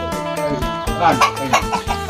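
Chickens clucking close by in a backyard flock, a steady run of loud overlapping clucks and short calls with a voice speaking briefly.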